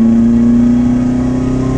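Alfa Romeo GTV engine running steadily with a low, droning hum and slight throttle swell, loud and close for under two seconds.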